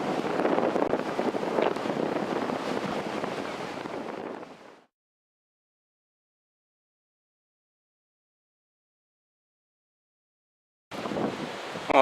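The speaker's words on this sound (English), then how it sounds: "I'm heading into a very strong headwind." Strong coastal headwind buffets the microphone of a cyclist riding along the beach, a loud rushing roar that cuts off completely midway and returns briefly at the end.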